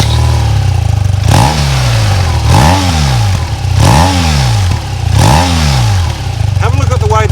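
A BMW R12nineT 1200cc boxer-twin motorcycle engine idles close by, then revs sharply four times in a row, each blip rising and falling back to a lumpy idle, loud and alone, with a brief clatter near the end.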